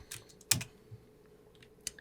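A few scattered, quiet keystrokes on a computer keyboard, with one sharper tap, over a low steady hum in an otherwise quiet room.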